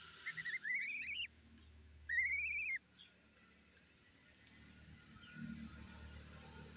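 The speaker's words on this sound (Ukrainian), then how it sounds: "Сейчас мої гусики посплять." Young geese (goslings) give two clear high rising peeps, close and fairly loud, over a quiet rural background hiss that carries on alone afterward.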